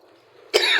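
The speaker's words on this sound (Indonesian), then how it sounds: "sekarang batuk." A single close, loud cough bursts out suddenly after a moment of low background rumble from a drive along a village road.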